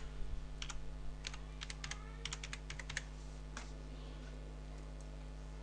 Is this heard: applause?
no